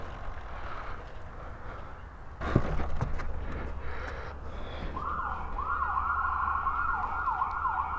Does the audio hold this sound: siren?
yes